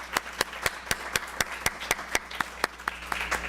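At a multicultural gala, a sparse, steady run of about a dozen crisp claps repeats in an even rhythm, fairly quiet and close.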